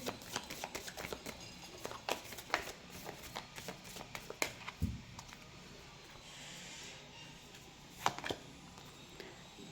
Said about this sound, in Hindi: लास्ट शफल, देन अपन कार्ड्स निकालेंगे।